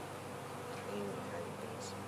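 Honey bees hum steadily around a hive holding a newly settled swarm, a faint, continuous close buzz with individual insects drifting past.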